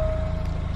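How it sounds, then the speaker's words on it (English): A beat-up old car idles loudly, its dense low engine rumble running unbroken under a steady high-pitched whine for under a second. "You can hear how fucking annoying and how loud this car is."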